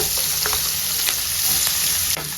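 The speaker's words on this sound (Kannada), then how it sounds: "ಆನಿಯನ್ ಎಲ್ಲ ಚೆನ್ನಾಗಿ ಸಾಫ್ಟ್ ಆಗೋ ತನಕ ಫ್ರೈ ಮಾಡ್ಕೊಳ್ಳೋಣ." Onions, green chillies and curry leaves fry in a pan for crab masala, giving a loud, continuous close-up sizzle with a few brief stirring clicks and no talking.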